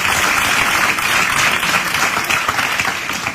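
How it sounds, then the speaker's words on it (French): An audience applauds steadily, a thick continuous wash of many hands clapping at even loudness throughout, with no voices standing out. "Pourquoi ils applaudissent?"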